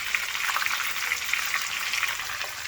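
Chuck pot roast searing in hot grease at about 325 to 350 degrees, giving a steady, close, dense sizzle and crackle that runs unbroken and alone, with no voices.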